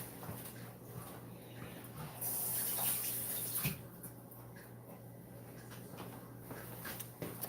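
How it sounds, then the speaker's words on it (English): Tap water runs briefly over a spoon being rinsed at a kitchen sink, a soft steady rush for a second or so amid quiet room noise. "Let me rinse my spoon."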